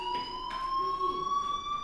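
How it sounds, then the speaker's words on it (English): A school fire alarm in the game Life Is Strange rings as a steady electronic tone with bright harmonics, holding continuously at a moderate level with no one speaking over it. "do you hear that fire alarm? That means you should be outside."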